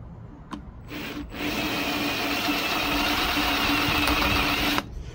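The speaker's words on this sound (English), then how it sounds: "When you drill these in, you want to make sure that you're not wobbling it out." A power drill bores holes for a custom Iron Dove gear shifter handle on a 1974 Ford, giving a steady, close whirring whine for a few seconds that starts and stops abruptly, with no talking.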